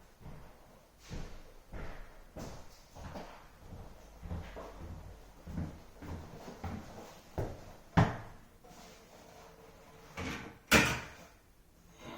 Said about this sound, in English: Let's grab these doors and put these doors on.